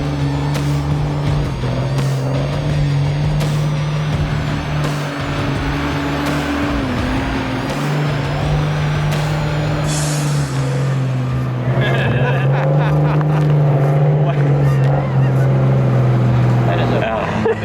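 A heavy seven-ton truck grinding up a steep rock face off-road, its engine droning loud and steady throughout, rising in pitch as power is added, with people talking over it.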